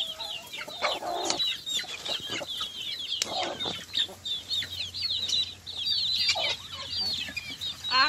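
Farmyard chickens around a brooding box of chicks cluck and chatter continuously, several birds calling close by in quick, overlapping bursts.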